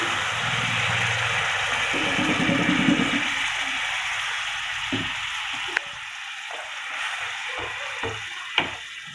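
Prawns go into hot spiced oil for a prawn malai curry, giving a steady close sizzle and crackle with a few sharp clinks of utensils against the pan.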